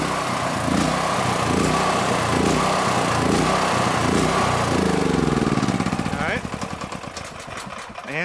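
A DuroMax XP13000EH hybrid dual fuel generator runs loud and close with a steady engine drone, then sputters and surges unevenly as it runs out of fuel near the end. Someone talks over it.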